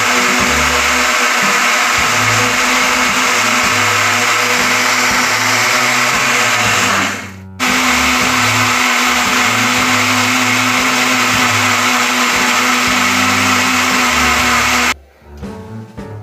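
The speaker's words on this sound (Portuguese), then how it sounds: "Aí eu vou colocar dentro do copo do liquidificador." Blender loudly whirring as it purees pineapple with natural lemon juice, a dense steady motor roar with a brief stop midway and a final cut-off, no voices over it.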